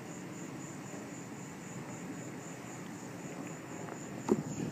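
An airplane passes overhead at night during heat lightning, a faint, steady, distant engine drone under a high, constant insect-like tone, with no talk.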